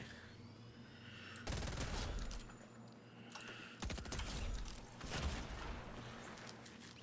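A video game gun fires in several bursts of sharp cracking shots, separated by quieter gaps with a faint hum underneath.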